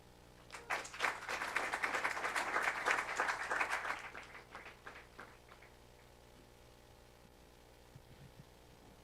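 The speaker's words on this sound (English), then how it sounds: "let us give a big round of applause to sir for the interesting and valuable talk" Conference audience applauding after a technical talk, a burst of clapping that swells quickly, holds dense for a few seconds, then thins into scattered claps and fades to room quiet.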